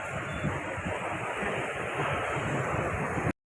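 Sea waves washing in at the shore, a continuous broadband roar mixed with wind buffeting the microphone, steady and loud for a few seconds before cutting off abruptly.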